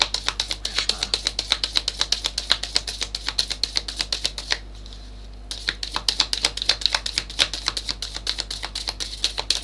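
Tarot cards being shuffled during a live reading, giving rapid rhythmic riffling snaps close by that stop briefly midway and then resume, with no talking.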